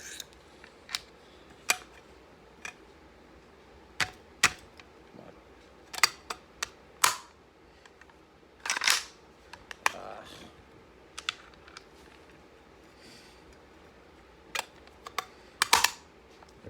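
Parts of a GHK AK airsoft rifle being fitted with a WNS rapid-fire full-travel kit, giving sharp scattered metallic clicks and snaps at irregular intervals, close and fairly quiet, with a few longer rattling handling bursts.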